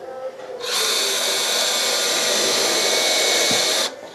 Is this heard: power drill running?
yes